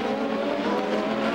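CART open-wheel race cars bunched together in the closing laps of the 2000 Honda Indy 300 in Australia, a steady dense engine roar sustained throughout without pause.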